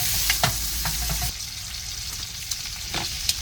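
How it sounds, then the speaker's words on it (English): Steak frying in a hot pan with knobs of butter and thyme, a steady close sizzle broken by sharp spitting pops and the scrape of basting, loud at first then settling into a softer, even crackle. "going to add some knobs of butter and the thyme. I'm going to need 2 hands for this, but you get the idea. I'll be basting it"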